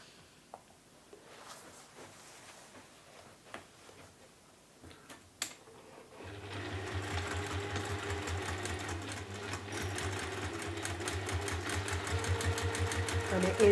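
A sewing machine runs steadily, stitching a quarter-inch side seam on a large fabric box bag. It starts after several seconds of quiet handling noises and grows louder toward the end, with no voices heard.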